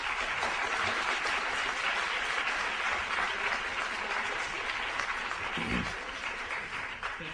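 Audience applause in a debate hall, a dense steady wash of clapping that holds for several seconds and thins slightly toward the end.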